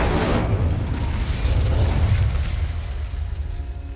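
Spell blasts from Confringo and Incendio in the video game Hogwarts Legacy, a heavy booming explosive burst that swells loudly and rumbles on for several seconds before slowly thinning out, with no talk.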